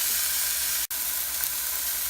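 Chicken sizzling steadily in a hot skillet, a continuous close, loud frying hiss broken only by a split-second gap.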